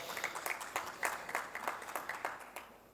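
At a FITA2025 conference panel, a modest audience gives a quiet round of applause, with distinct claps in an uneven rhythm before it tapers off.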